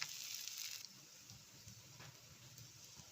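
Wheat rava adai frying in ghee on a nonstick pan, a faint, steady sizzle with a brighter crackling hiss at first that then eases into soft, continuous frying noise.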